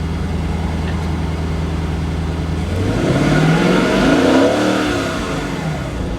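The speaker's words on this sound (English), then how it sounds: "I don't know if you want to give it a rev" A Lexus RC F's engine climbs from a steady low drone into a louder rev that rises and falls near the car, with no voices over it.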